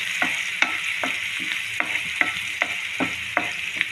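Onions stirred in a pan while they fry to brown for chicken masala: a loud, steady sizzle broken by a regular rhythm of about ten spatula scrapes and knocks, close up.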